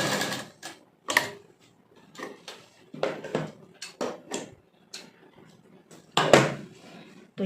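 A sewing machine stitches a palazzo pant seam in short, uneven spurts. The brief mechanical ticks and clatters are separated by quiet gaps as the fabric is guided.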